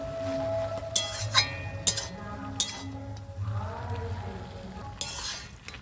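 Pumpkin flower curry with mustard, cumin and coriander paste stirred in a pan, a spoon scraping and clinking against metal in scattered sharp taps over a low simmer.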